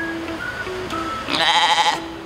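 Sheep at an animal cafe bleat loudly and close up in a few drawn-out calls, the last one harsher and more nasal.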